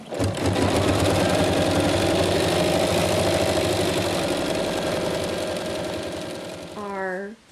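An embroidery machine runs a tack-down stitch around the hoop for an in-the-hoop watermelon coin purse, a loud, steady, rapid mechanical chatter that continues without a break for several seconds, then stops with a short falling whine at the end.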